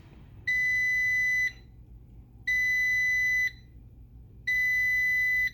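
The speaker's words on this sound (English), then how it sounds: "if I turn it off, I don't want it to beep 5 times" Three loud electronic beeps, each about a second long and evenly spaced, from a Power XL air fryer being turned off, over a quiet low hum.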